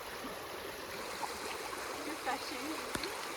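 Mountain stream on the Appalachian Trail, a small water source with less flow than after rain, gives a steady, soft broadband rush of flowing water throughout, with faint scattered sounds and no clear talk over it.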